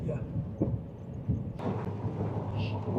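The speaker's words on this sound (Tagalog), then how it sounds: "Sobrang lakas guys ng ulan." Heavy rain pours down steadily during a UK downpour near the sea, a dense low rumbling hiss with a faint voice underneath.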